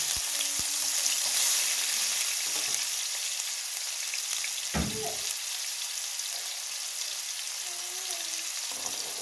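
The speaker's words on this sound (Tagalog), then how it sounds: "Magisa ako ng luya." Ginger sautéing in a pan for a fish dish, giving a steady, fairly loud sizzle and hiss throughout, broken by a sharp clank near the middle and a few faint tonal squeaks.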